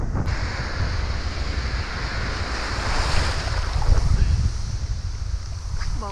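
Loud surf crashes and churns continuously at a rough, windy fishing spot, with heavy wind buffeting the microphone and waves rolling in close.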